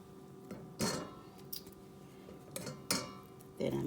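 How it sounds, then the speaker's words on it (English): Meatballs set one by one into a cast iron brazier pan: a few soft thuds and light clinks of metal at irregular intervals over a low steady hum. "Getting all the meatballs in our pan"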